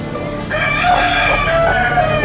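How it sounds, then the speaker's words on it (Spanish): Extremaduran hens and a rooster at an agricultural livestock fair in Salamanca, with a loud, sustained crow rising over steady overlapping clucking and fowl calls in a busy barn. "Gallina extremeña."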